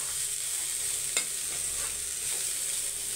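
Amaranth greens stir-fry in a pan under a steady, soft sizzle, with a few faint spatula scrapes as the greens are mixed.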